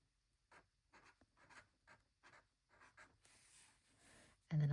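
A pen writing in a Sterling Ink N1 Common Planner makes quiet, close, scratchy strokes in short separate bursts, ending with a louder thump.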